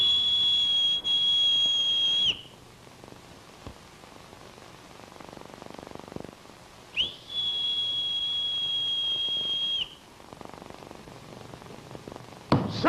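A shrill, steady whistle blows twice, each blast lasting a couple of seconds with a quiet gap between.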